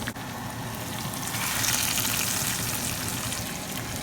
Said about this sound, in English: So I'm just gonna add the baghar to it